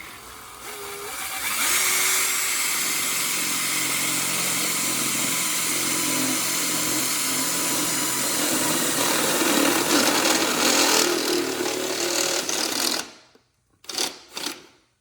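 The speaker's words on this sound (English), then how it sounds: "Now I'm going to grab a drill with a uni-bit" A power drill with a step bit whines loudly and steadily as it bores a hole for about eleven seconds, then cuts off, followed by a couple of short knocks.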